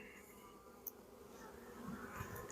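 Honeybees buzzing during a spring hive inspection, a faint continuous drone with a few louder buzzes passing close, no talking.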